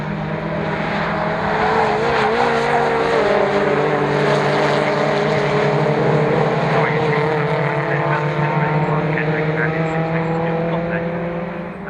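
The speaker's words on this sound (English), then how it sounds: "Adam Jackson green car got him, close that gap down" MG race cars roar past trackside at Croft circuit, a loud sustained engine drone with shifting pitch that swells and fades as the cars pass, with a commentator talking over it.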